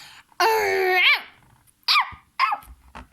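A small dog at a veterinary clinic gives one long whining bark followed by two shorter yelps, close and loud with quiet pauses between.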